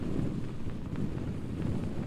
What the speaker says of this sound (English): it's about 50 mile per hour wind gusts right now. Very, very loud.